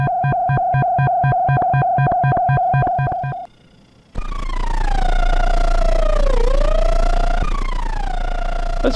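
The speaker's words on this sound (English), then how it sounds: "Alarm sound." A Kastle synthesizer plays a pulsing on-off tone, then after a short near-silent gap shifts to a loud, wavering siren-like alarm tone that dips and rises in pitch.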